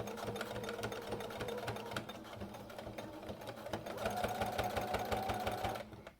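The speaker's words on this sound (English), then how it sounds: "Sewing on vinyl is a pain, especially because the part here is not very grippy, so it's going to be annoying to sew." A sewing machine stitching vinyl boot covers, running continuously with a rapid, even mechanical chatter up close, then stopping just before the end.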